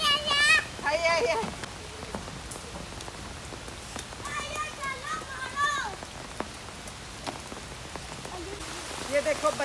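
Heavy rain pours steadily on surfaces in a village, a dense continuous hiss with children's voices and shouts rising over it at moments as they play in the downpour.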